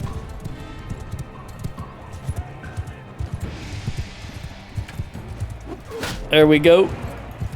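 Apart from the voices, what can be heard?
horse hooves clip-clopping in Mount & Blade II Bannerlord video game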